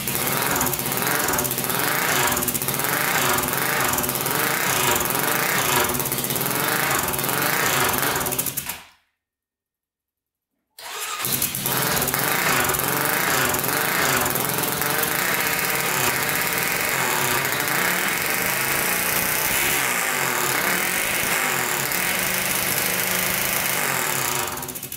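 A turbocharged Honda 400ex ATV engine runs loud and close, with a harsh, buzzing high-revving drone that keeps revving out. It cuts out briefly partway through, then the roaring engine sound comes back and continues.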